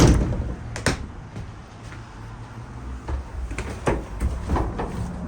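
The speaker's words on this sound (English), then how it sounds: "This door is working. Close it." Working on the rear door of a Ford Transit 250 van after a latch actuator replacement: a solid close-up door thud is followed by scattered latch clicks and knocks in a quiet setting.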